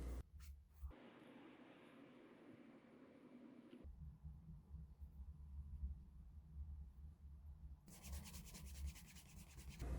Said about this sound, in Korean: 사포를 이용해서 단면을 한 번 더 다듬어 줍니다.